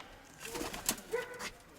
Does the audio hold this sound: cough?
no